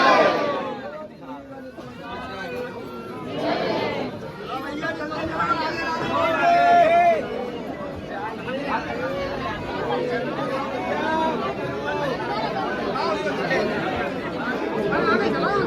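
A busy crowd packs the narrow lanes of Nidhivan in Vrindavan, a steady babble of many voices talking at once, with some louder nearby voices rising above the hubbub throughout.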